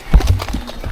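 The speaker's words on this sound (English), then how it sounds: "people are horse riding around there as well" Horse hooves clip-clopping at a steady walking pace during a ride in Edinburgh, close and fairly loud, with a brief whinny-like sound and some background noise.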